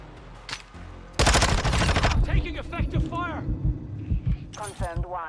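Video game gunfire from Call of Duty Modern Warfare 2, with a sudden loud burst of rapid automatic shots followed by scattered single cracks and bursts, plus voices calling out between them.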